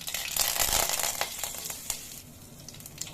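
Mustard seeds, cumin and curry leaves hit hot oil for a sambar, giving a loud crackling sizzle that settles into a softer, steady fry with scattered pops.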